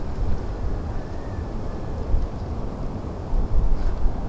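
Strong wind roars steadily in low rumbling gusts, buffeting the microphone, with a louder surge near the end and no voices.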